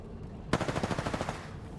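Automatic weapon fire in a shooter video game, a rapid burst of about a dozen evenly spaced shots that starts abruptly, sounds close and fairly loud, then fades, with nobody talking.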